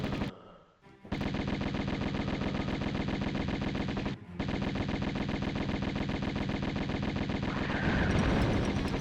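Rapid pistol gunfire from Lara in Tomb Raider (1996) as she shoots at mutants, a dense, steady stream of loud shots broken by two brief pauses, with no voices over it.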